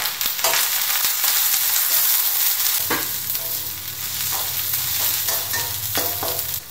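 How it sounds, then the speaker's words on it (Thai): Sesbania flowers stir-fry in a little oil, a steady loud sizzle running throughout with occasional scraping strokes of the spatula in the pan. "นี่นะคะเราก ็เอาลงไปผัดกับน้ำมันเลยค่ะใช้น้ำมันนิดๆนะ"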